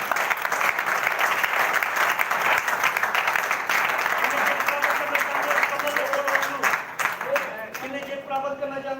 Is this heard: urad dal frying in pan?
no